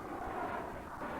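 Steady roaring engine drone of an airplane passing in a video game, a continuous broad rumble with no breaks, fairly loud throughout.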